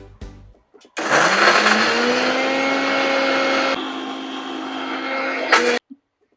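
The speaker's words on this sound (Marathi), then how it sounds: "चला मी मिक्सर लावून घेते आणि ज्यूस वाटून घेते." After a brief clatter, a mixer grinder blending juice whirs loudly and steadily for about five seconds, then cuts off abruptly.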